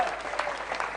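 Applause from an audience at an Islamic religious lecture, a steady dense patter of clapping filling the short moment without pause.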